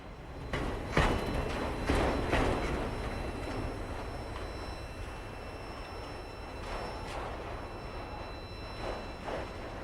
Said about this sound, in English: A Canadian Pacific-led northbound train, symbol Q27218, waits for a clear signal at the north end of the shoo-fly at Erie Junction